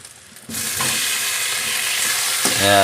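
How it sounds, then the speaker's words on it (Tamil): Small onions and tomato sautéing in oil start sizzling abruptly after a brief quiet moment, then hold a loud, steady, close-up frying hiss with light stirring noises. "வெங்காயம் சின்ன வெங்காயங்க நல்லா எண்ணெய் ஊற்றி நல்லா வணக்கிட்டுங்க"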